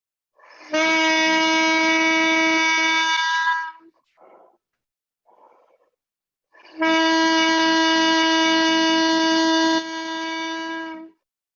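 Two long, steady, buzzy low baritone saxophone tones, each held a few seconds, separated by a pause with a quick breath between them.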